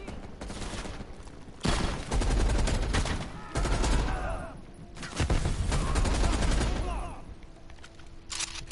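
Heavy machine gun fire in the Black Ops Cold War video game, loud sustained bursts of rapid gunfire separated by short pauses, with faint game voices underneath.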